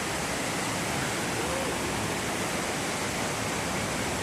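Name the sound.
waterfall Cachoeira da Pedra Lisa in Boiçucanga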